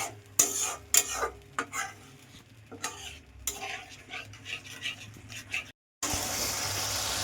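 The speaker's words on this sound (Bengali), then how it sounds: "এটাকে দিয়ে আমি 5 মিনিট একটু নেড়ে ছেড়ে নেব।" Yogurt is stirred into a simmering fish curry (doi katla) in a pan, a spoon scraping and clattering in irregular strokes over a faint sizzle, with no talk.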